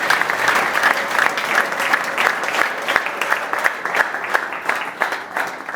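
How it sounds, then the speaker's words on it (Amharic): A church congregation bursts into sustained applause, dense rapid clapping from many hands filling the room at steady loudness with no break for the full stretch. "እግዚአብሔር ክብር አጨብጭቡለት።"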